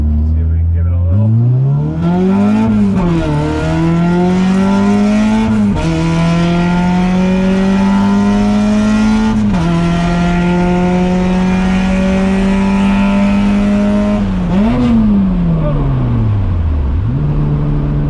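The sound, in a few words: Honda Civic hatchback B18 engine revving into VTEC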